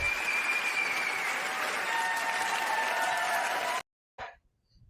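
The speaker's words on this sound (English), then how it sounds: "Yes, I had to give them their round of applause as well." Applause from a summit panel audience, thick and steady clapping lasting nearly four seconds before cutting off abruptly, followed by a brief faint stray noise and quiet.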